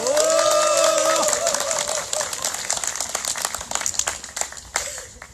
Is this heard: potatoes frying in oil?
no